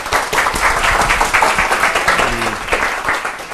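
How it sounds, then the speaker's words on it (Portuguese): An audience at an academic talk on biodiversity conservation gives the speaker a round of applause, dense steady clapping close by throughout the short burst. "pedir uma salva de palmas para ele"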